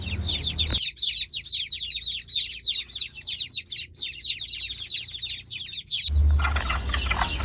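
A serama hen calls her chicks: clucks and chirpy calls repeat steadily, close by, with high peeping chick tweets throughout and a lower hen call at the end.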